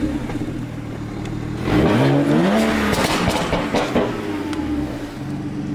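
A BMW M335i engine fires up and revs hard, a loud rising roar with a pitch sweep around the start, then settles into a steady idle rumble close by.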